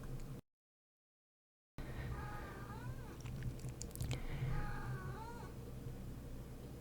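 Cat meows a few times, short rising and falling calls at moderate distance over low room noise, after a brief silent gap.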